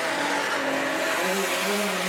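Outlaw sedan race cars roar around a speedway track at night, a dense, loud wash of engines with rising and falling revving tones layered together, heard steadily without a pause.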